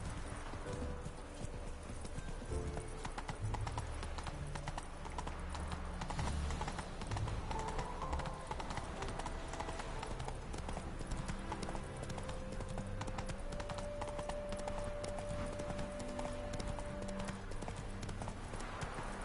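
Hoofbeats of a horse galloping in The Witcher 3, a steady clip-clop running throughout at moderate level with game music underneath and a brief whinny.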